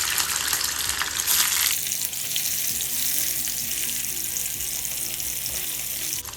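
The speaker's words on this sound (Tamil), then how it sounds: "நம்ம கட் பண்ணி வச்சுருக்க பன்னீரை வந்து இது மாதிரி எண்ணெயில் கொஞ்சம் போட்டு பொரிச்சு எடுத்துக்கலாங்க" Cubes of paneer frying in hot oil for paneer butter masala, a steady close sizzle that starts with a sharp bright burst and then settles into a continuous crackling hiss, with no voices.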